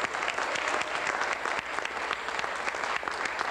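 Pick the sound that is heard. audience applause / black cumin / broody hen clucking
audience applause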